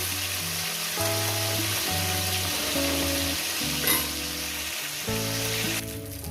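Pieces of sole fish fry in oil with a steady, close sizzle that runs through the whole stretch, while a stepped melodic tune plays over it.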